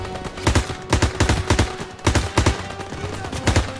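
Machine gun fire in the video game Call of Duty WWII, loud rapid bursts of automatic shots repeating in quick succession with short gaps between volleys.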